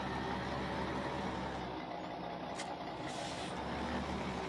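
A truck in Farming Simulator 17 idles with a steady, loud engine drone. A sharp air-brake hiss bursts out partway through, and the engine rumble carries on around it with no talk.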